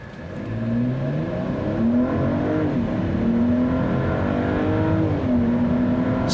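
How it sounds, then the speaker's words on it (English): A 2024 Mercedes-Benz GLE 450 4Matic SUV accelerates hard at full throttle. Its engine drone is loud and steady and rises in pitch through several smooth upshifts of the 9-speed automatic. No one speaks. "This time we're not gonna brake torque it, we're just gonna floor it."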